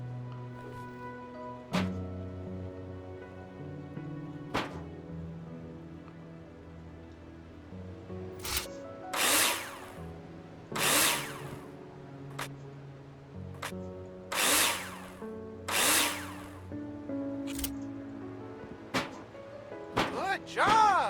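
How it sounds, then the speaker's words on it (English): Game power drill in Builder Simulator screwing wall profiles into place, a series of short, sharp whirring bursts in a quick uneven rhythm over a low background tone. "place them in the holograms and screw them in with a drill"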